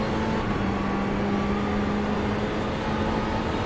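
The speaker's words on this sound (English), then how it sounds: "Is it because of the engine noise, or?" A car engine drones steadily and evenly throughout, a constant low hum with faint tonal whine and no other sounds or talk.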